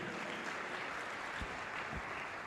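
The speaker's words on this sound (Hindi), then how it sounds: "तारीफ करो ताली बजाकर जोर से परमेश्वर की।" A church congregation claps loudly in praise during a sermon, a dense, steady wash of applause filling the room throughout, with no speech over it.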